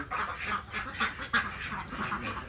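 Young Yi-Liang ducks give rough, hoarse honking quacks, several calls in an irregular series, close by and moderately loud with no talking.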